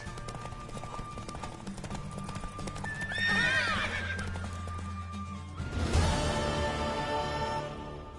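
A horse in the video game The Witcher 3 whinnies loudly with a rising and falling neigh, then snorts, over steady clip-clop of hooves and background game music.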